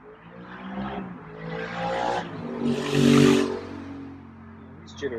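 A car passes by outdoors at night, its engine and tire noise swelling steadily to a loud peak near the middle before fading, with a brief sharp knock at the end.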